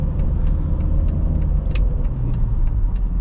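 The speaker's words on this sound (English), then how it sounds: "this X3 is so much fun to drive" A 2006 BMW X3 3.0i being driven on a road, heard from inside the cabin as a steady, loud engine and road drone with light ticking and rattles over it and no talk.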